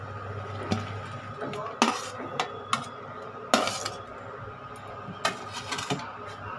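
Dhoka curry (dhokar dalna, lentil-cake curry) is stirred in a pan, with a spoon clinking and scraping against the metal in scattered sharp taps over a steady low kitchen hum, close and moderately loud.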